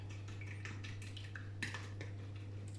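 A pastry brush mixing water and egg yolk in a bowl, light repeated clinks and scrapes against the bowl over a constant low hum, no talking.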